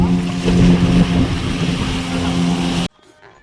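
A fishing boat's engine drones loudly and steadily at sea as the vessel heads back to shore after hauling its nets, with water rushing along the hull, then cuts off abruptly near the end.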